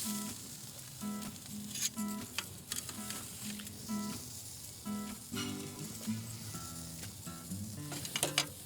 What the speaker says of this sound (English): place a few spruce branches on the grate and put the steak back on top of it